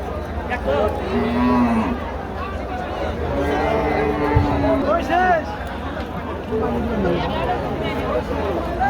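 A cow gives a few moos amid the hubbub of a cattle sale. Lowing calls rise over a busy background of voices and crowd noise.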